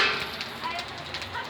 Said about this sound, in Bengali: মা পাঁচফোড়ন দিচ্ছে।